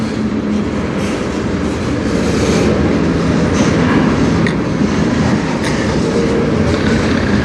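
A CN manifest freight train hauled by locomotives CN 2928 and CN 3834 rolls past in Sarnia, a loud, steady rumble of wheels and cars with light clicking, no horn clearly standing out and no talk.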